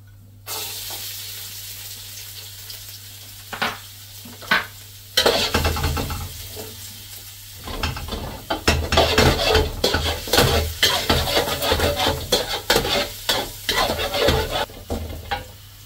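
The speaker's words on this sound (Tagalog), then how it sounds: "lagyan natin ulit ng mantika at tayo ay magigisa na ng bawang" Garlic sautéing in cooking oil in a pan, a steady close sizzle under repeated scraping stirs and clinks of a utensil against the pan, growing busier and louder partway through.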